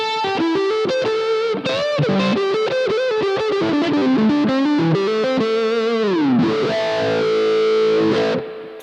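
Electric guitar pushed through overdrive on a Blue Guitar Amp 1 model with a Line 6 HX Effects filter, playing a loud, sustained melodic line of gliding notes with a thick, processed, chorus-like tone and no talking.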